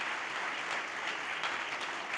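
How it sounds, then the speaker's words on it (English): Crowd applause at a stage event celebrating a games and learning lab: sustained, even clapping from many hands, close and full, with no voices on top. "let's give it up for a round of applause for the Endless Games"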